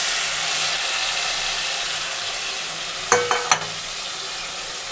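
Soaked cumin, coriander, chilli and turmeric powder frying with onion and tomato in a pan, giving a continuous close sizzle, broken near the end by a quick burst of clattering stirring.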